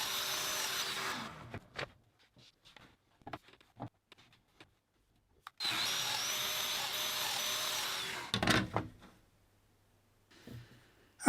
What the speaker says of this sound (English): can cut the mortises using pencil lines against the guardrail to line up the domino and move my way up the legs